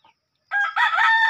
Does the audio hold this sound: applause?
no